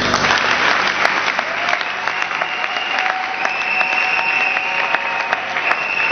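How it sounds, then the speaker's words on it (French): An audience claps steadily and loudly for newly ordained church ministers. The applause is sustained and dense throughout, and a faint crowd murmur sits beneath it. "Veillez bien les acclamer."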